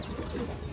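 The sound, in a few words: pigeon cooing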